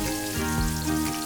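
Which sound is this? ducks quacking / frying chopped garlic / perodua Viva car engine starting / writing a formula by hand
frying chopped garlic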